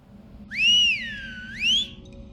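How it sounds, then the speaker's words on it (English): A clear, loud whistle in a tunnel in a Silent Hill video game glides down and then back up in pitch, followed by a shorter rising note, ringing out alone over quiet background hum. "there's a point where you whistle"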